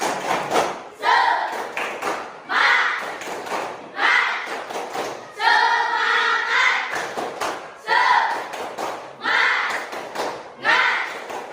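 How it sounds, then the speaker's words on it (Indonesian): Schoolchildren in a physical education class do a rhythmic spirit clap, repeated bursts of claps in a patterned beat with chanting voices between them. "Tepuk semangat."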